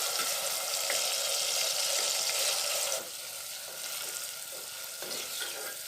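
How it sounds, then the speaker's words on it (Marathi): Tomato sautéing in a pan for mutton kheema fry, a loud bright sizzle that drops abruptly to a quieter steady frying hiss partway through, with faint stirring scrapes. "टोमॅटो छान परतून देणार आहे।"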